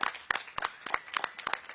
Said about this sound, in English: let's give all the winners a big round of applause